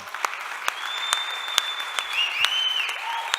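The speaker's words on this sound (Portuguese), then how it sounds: "Merece o nosso aplauso." A church congregation claps together at a Sunday service, a dense steady patter of many hands filling the room, with a faint whistle or tone drifting over it.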